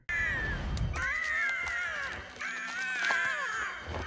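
Birds fighting in an animated Avatar: The Last Airbender episode give harsh, repeated crow-like caws in quick overlapping bursts, with scuffling clatter beneath, fairly loud and close.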